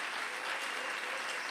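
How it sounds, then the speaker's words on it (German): A congregation claps for David and Eifje at a special church service, a brief burst of dense, even applause from a crowd filling the room. "ich will, dass ihr alle einen Klatsch geben für David und Eifje"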